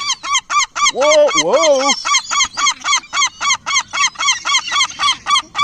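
Seagull on Bournemouth beach squawking loudly right next to the listener, a rapid, continuous series of harsh honking calls with a longer wailing cry near the start. A man exclaims briefly.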